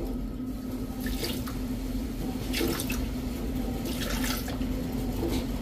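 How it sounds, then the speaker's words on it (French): Water poured into a bowl for bread roll dough, a steady close splashing stream with brief brighter surges over a constant low hum. "On a besoin de 320 g d'eau."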